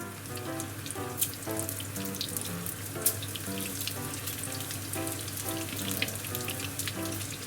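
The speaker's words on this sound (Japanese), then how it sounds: "でエビが全部入ったらちょっと火は弱めて強火から中火ぐらいにして、であと揚げ焼きにしていきます" Frozen shrimp shallow-fry in hot oil with a steady, crackling hiss and scattered pops, heard close and continuous beneath background music.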